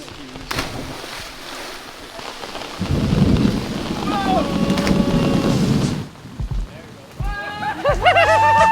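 Rain pours steadily outdoors beside a river, with low thunder rumbling through the middle of the downpour and voices talking over the noise toward the end.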